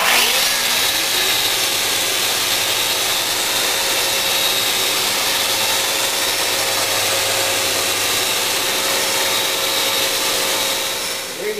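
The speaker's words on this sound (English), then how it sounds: "using a little 800 grit sandpaper to remove any planer knife marks from the surface" Steady, continuous whirring hum of power sanding across wood planks with 800 grit sandpaper, smoothing away planer knife marks for a fireplace mantel; loud and close, unbroken for the whole stretch with no voices.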